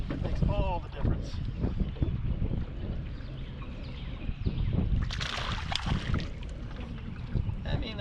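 Wind on a lake buffets a fishing boat during a bass-fishing outing, a constant rough rush and rumble close to the microphone, with water sounds and brief bursts of stronger gusting.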